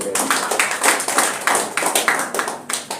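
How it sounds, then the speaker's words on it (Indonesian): An audience at an Indonesian political party gathering claps steadily at close range, with sharp, rhythmic hand claps repeating for the whole stretch. "Beri tepuk tangan dulu dong"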